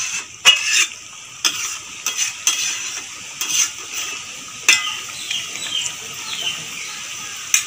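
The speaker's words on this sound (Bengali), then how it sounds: "এবার আমি মাংসটা একটু নাড়িয়ে নেব, গরম মশলাটা যাতে মাংসের মধ্যে মিশে যায়।" Chicken meat mixed with garam masala is stirred in a pan, with repeated sharp scrapes and clinks of the spoon against the metal over a soft sizzle, close up.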